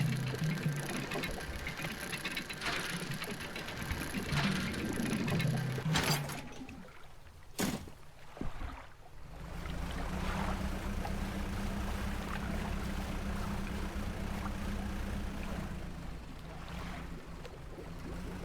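A small boat's added engine hums steadily in the video game Dredge, with a brief dip and a few clicks partway through before the low drone resumes and holds to the end.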